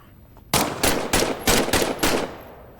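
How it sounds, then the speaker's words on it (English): A burst of about six rapid, loud gunshots from a World War II weapon being test fired in a VR shooting game, evenly spaced and close, ringing out alone before fading. "why don't you test fire your weapon?"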